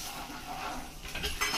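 Chili, masala, coriander and turmeric powders go into hot oil in a pan for a besan bhaji, a brief soft sizzle with a spoon clinking against metal, close by.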